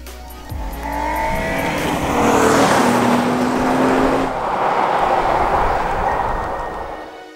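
A 2019 Honda Ridgeline pickup truck drives along, its engine and road noise swelling into a loud, sustained roar with rising and falling tonal whine, no talking.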